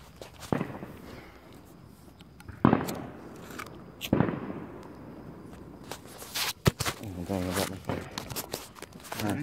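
Small fireworks go off in a back yard: several sharp cracks and pops at uneven intervals, some close and loud, followed by crackling bursts, with people talking and footsteps shuffling around them.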